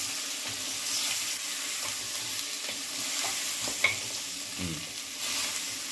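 Mutton bones being stirred in a pan with onion and ginger-garlic paste for paya soup, giving a steady close sizzle with scraping spoon strokes and a brief sharp clink near the end, no voices.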